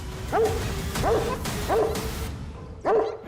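A dog barks four times in short, evenly spaced yips with a whimpering edge, close and loud over a steady background rumble.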